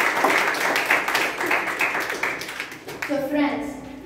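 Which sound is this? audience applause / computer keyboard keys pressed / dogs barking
audience applause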